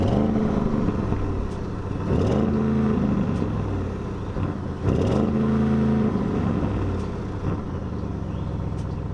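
A 2021 Audi RS6 Avant with a twin-turbo V8 idles with a deep, close rumble and rises in two strong revs before settling back.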